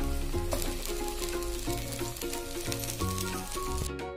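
Jowar ghavan, a sorghum flour crepe coated with oil, cooking in a covered pan with a steady soft sizzle running under louder background music.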